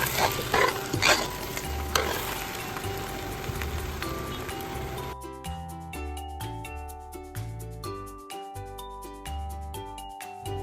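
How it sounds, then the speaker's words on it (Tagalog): Sticky rice being stirred into latik in a pan over low heat for biko, a steady scraping and stirring with a faint sizzle, close and continuous throughout, no speech. "Hahaluin lang natin ito hanggang sa mag-well combine na."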